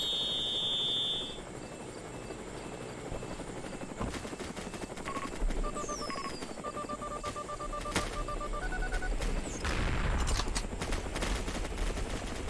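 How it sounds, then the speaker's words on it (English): Gunfire in the Roblox Mad City video game crackles in dense, rapid bursts over continuous game noise, with electronic beeps and tones scattered through and a heavier rumbling burst near the end; no talking is heard. "We're literally shooting at our vehicles from that side."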